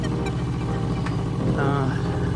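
A 2021 Kawasaki Vulcan S 650 motorcycle fitted with a new exhaust rumbles steadily at close range, a low continuous engine drone with a brief rising rev near the end.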